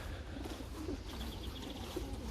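Soft pigeon coos repeat a few times against a steady low background hum, faint and somewhat distant.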